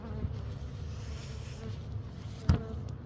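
Honeybees pour out of a hive after a knock on the box, a soft continuous buzzing drone with a brief louder tap partway through.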